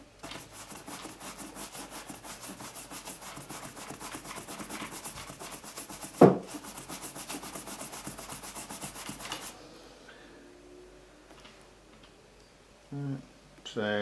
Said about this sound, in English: I'll rub that in and we'll just buff it off